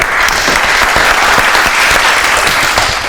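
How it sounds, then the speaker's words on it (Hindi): Loud, dense audience applause continues steadily throughout, many hands clapping at once with no talking. "जान के लिए तालियां।"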